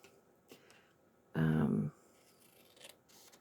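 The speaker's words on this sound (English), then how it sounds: "I'm using my scissors" A single short snip of scissors trimming paper, close and fairly crisp, set against a quiet room.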